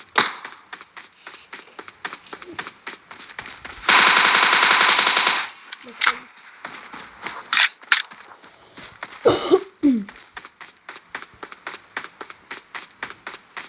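Gunfire in a shooter video game: rapid, evenly spaced single shots run through the clip, with a dense automatic burst early on and a few sharper blasts, while someone talks and coughs now and then.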